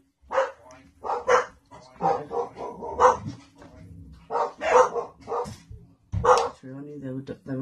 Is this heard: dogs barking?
yes